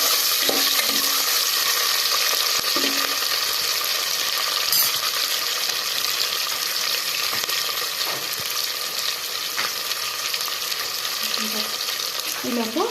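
Onions and green chillies sizzle steadily in a hot pan while biryani is prepared at home, a constant close frying hiss with occasional light clinks of a utensil.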